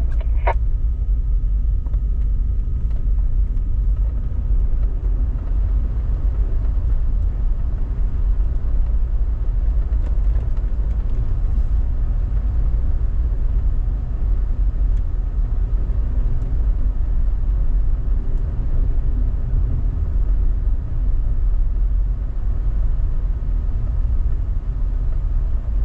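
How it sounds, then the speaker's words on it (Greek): A four-wheel-drive vehicle descending a snowy hill in 4-low, braking on engine speed alone: a steady, loud low engine rumble continues without a break, with no talk over it. "Φρένα στην κατηφόρα, 4 low και με την ταχύτητά σου μόνο."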